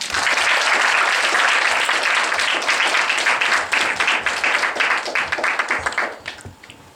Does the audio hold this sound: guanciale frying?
no